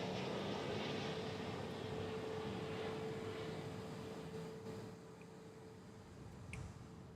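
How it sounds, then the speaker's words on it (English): Airbus A321neo jet at DFW airport bound for San Francisco, a steady broad roar with a faint whine that eases slightly toward the end, heard from a distance with no talk. "So this A321neo heading to San Francisco."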